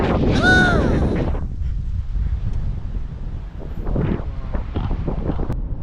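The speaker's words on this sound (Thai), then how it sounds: "ลมค่อนข้างที่จะแรงนะครับ" Strong gusty wind in Chiang Khan, Thailand buffets the microphone in continuous rough rumbles, with a brief voiced sound near the start.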